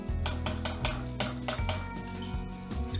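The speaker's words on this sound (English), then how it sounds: "So straight away I'm going to add those beans and the garlic to the vegetables." Black beans and garlic tipped into a pan of vegetables for beef with black beans, with a run of stirring scrapes and clinks of utensil on pan over a soft steady sizzle, up close and with no talking.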